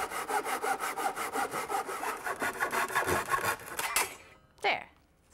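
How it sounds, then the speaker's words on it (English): A hand saw cuts through a wooden board in steady, rhythmic push-pull strokes, close and clear, ending with a final rasp as the cut finishes and a brief scrape after. "get the saw started, you actually glide it along in a pushing direction"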